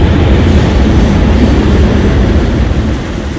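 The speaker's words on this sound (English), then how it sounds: "it's just a very, very nearby train" A loud, rumbling train roars past very close by a campsite, a dense steady rush of noise that eases slightly at the end.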